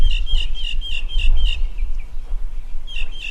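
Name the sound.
birds chirping and singing outdoors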